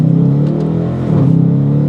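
A 2020 Dodge Challenger with a naturally aspirated 5.7-liter V8 Hemi roars at full throttle, its deep pulsing exhaust drone rising and briefly dipping as it shifts, then pulling hard again, loud and close.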